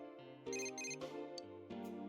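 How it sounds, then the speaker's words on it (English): A ringing phone in the video game Persona 4 Golden plays as a bright electronic ringtone, a repeating burst of melodic tones with no voices over it. "Phone's ringing."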